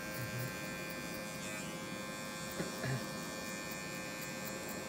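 An electric hair clipper buzzes in a steady, faint drone while cutting hair during a classic haircut, with small shifts in tone as the blade is pressed to the skin and moved along the head.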